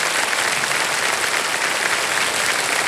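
Studio audience applause on a televised quiz show, steady and dense, filling the whole stretch at full level without a break and no talk over it.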